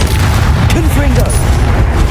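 Confringo explosion spell in Hogwarts Legacy lands as a strong, close booming blast with rumbling low end and crackling bursts, set among other combat effects and a faint whistling tone while someone speaks.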